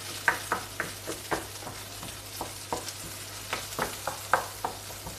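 Tomato paste and onions frying in a pan, with a steady sizzle under repeated scraping and stirring strokes at an irregular rhythm, close and fairly quiet, with a low electrical hum beneath.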